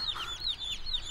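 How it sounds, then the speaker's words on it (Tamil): Chickens cluck in a quick repeated series of short, bright calls, fairly close, over a low background rumble. "டேய், உன் கோழி குஞ்செல்லாம் பறக்குதுடா."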